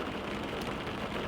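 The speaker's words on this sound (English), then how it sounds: "so it's raining, so I can't go for my walk" Rain falling outside, a dense steady wash of drops close by, loud and continuous with no pauses and no voices over it.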